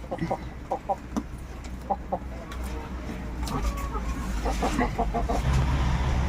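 Native chicken giving short, repeated clucks near a small coop, clear rhythmic calls close by over a low rumbling background that grows steadily louder.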